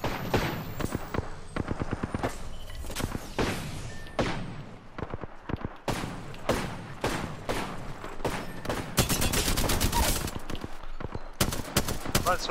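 Rapid, close automatic gunfire in Apex Legends, almost nonstop with sharp single shots and dense volleys throughout, plus some voices underneath.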